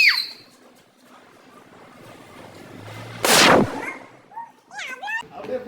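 A large Diwali firecracker bomb bursting outdoors on a road in a single loud, sharp blast midway through, after quieter background sounds; a high squeal is heard early on, and voices follow the explosion.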